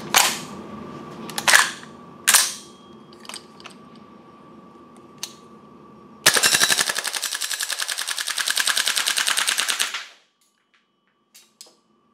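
A VFC HK416C gas blowback airsoft rifle fires a long, loud, rapid full-auto burst of sharp cracks with bolt clatter, preceded by a few scattered clicks and handling knocks, then falls nearly silent.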